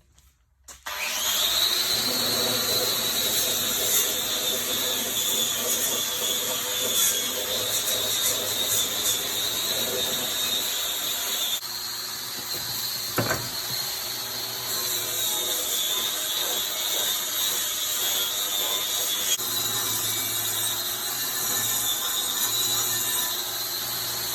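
A wire brush grinder whirs steadily against a Land Rover fuel tank, a loud continuous high whine with scratchy abrasion, briefly dipping and changing pitch midway, with a sharp knock around the middle.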